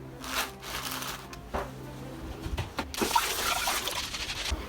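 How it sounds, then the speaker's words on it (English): Two tomatoes are washed under running water in a home kitchen. The water splashes and trickles close by at a fairly quiet level, with a few short handling sounds between the splashes. "So the first thing we need to do is wash 2 tomatoes."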